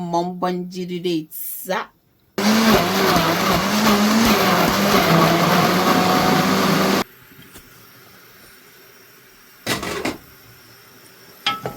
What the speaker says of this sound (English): I'm going to add some rosemary as well as I'm going to blend it very nice